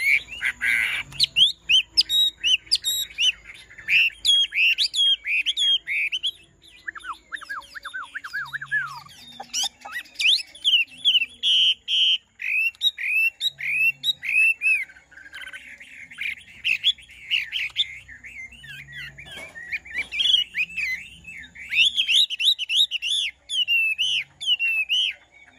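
A hwamei songbird sings a long, varied run of loud, rapid whistles, trills and chirps in bursts with brief pauses, close and clear, with occasional faint low thumps and no speech.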